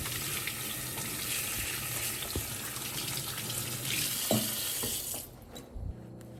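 Tap water runs steadily over hands at a kitchen sink after mixing cookie dough, a continuous broadband splashing rush that stops abruptly near the end, followed by a few faint clinks.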